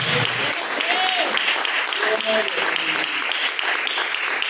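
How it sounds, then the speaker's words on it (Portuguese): A church congregation applauds during a worship service, a steady, dense wash of clapping that continues for several seconds while a voice speaks faintly over it. "Palmas para o Senhor"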